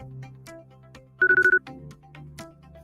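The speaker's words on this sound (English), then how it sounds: "It's Mike returning your phone call." A CapTel caption telephone gives one short burst of electronic ringing, a rapid trill of pulses lasting under half a second, clear and close, set between quiet stretches of background music.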